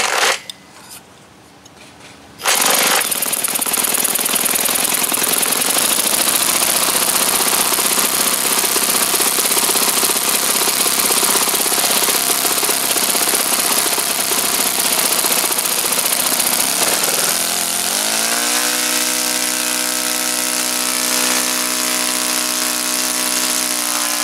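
Webra T4 60 model aircraft engine roaring after a timing change, starting abruptly after a brief quiet moment, then a loud, steady, high-pitched buzz up close that shifts tone near the end.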